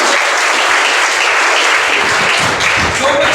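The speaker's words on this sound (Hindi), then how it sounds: "चलिए अब से बोलिए ताली बजा इसके नाम पर" Dense applause from an audience at a student talent award ceremony in Gaya, honoring an award recipient; steady, loud clapping that continues without a break.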